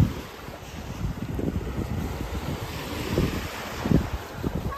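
Ocean waves wash onto the beach at Mission Bay, Auckland, a steady low rumble of surf mixed with gusting wind buffeting the microphone.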